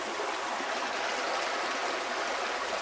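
Creek water flowing steadily outdoors in springtime, a constant broadband rushing and trickling with no pauses, moderately loud and close, with no voices over it.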